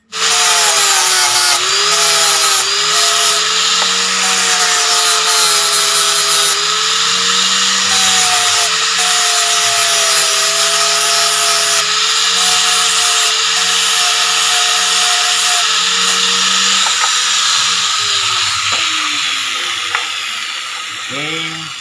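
A grinder fitted with a grinding wheel shapes a Honda CB100 engine filter, giving a loud, continuous whining grind that holds for over twenty seconds, its pitch wavering slightly as pressure changes before it tapers off at the end.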